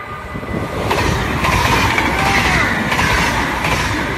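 Train passing on rails in the Netherlands, a loud, close, steady rumble with rhythmic clatter from the wheels, heard alone without talk.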